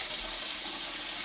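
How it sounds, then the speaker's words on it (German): Water being poured into a cooking pot during cleaning of a silicone shisha hose, a steady hissing gush close to the microphone, short and continuous with no voices. "ein bisschen Wasser haue ich noch rein"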